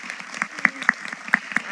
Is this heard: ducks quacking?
no